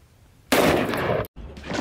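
A single loud blast from an Israeli-made gun fired at an outdoor shooting range, an abrupt burst that holds for most of a second, cuts off, then resumes as a fainter echoing tail.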